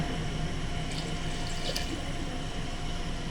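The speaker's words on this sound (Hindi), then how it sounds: "पानी शामिल करेंगे।" About 1.5 kg of water poured into a cooking pot for chicken yakhni pulao, a steady, close, continuous rush of liquid with no talking.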